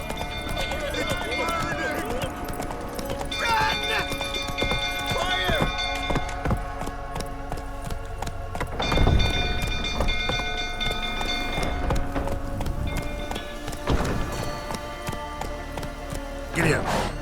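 Roach the horse gallops through The Witcher 3 on PS5, hooves clip-clopping in a steady, fairly loud run beneath voices and game ambience, with a heavier thump near the middle.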